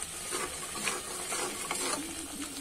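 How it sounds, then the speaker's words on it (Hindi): Spiced stuffed brinjal frying in a pan gives a steady sizzle with scraping and clicking from stirring, close and continuous, no voices. "अब इसको भुनने देंगे 10 मिनट तक"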